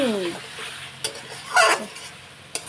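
A fish curry is stir-fried in a pan with faint sizzling and a few scraping knocks of the spoon. A brief vocal sound comes at the start.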